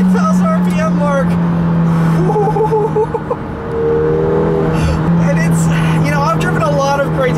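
A 2018 McLaren 720S engine screams at high revs past 8,000 RPM under hard acceleration, a loud sustained droning howl heard from inside the car, with a brief dip before climbing again, under someone talking.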